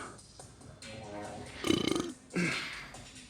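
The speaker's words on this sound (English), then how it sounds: "y'all can hear those burps" A man belches during a chest workout in a gym, a loud drawn-out burp followed by a shorter one, heard close over background noise.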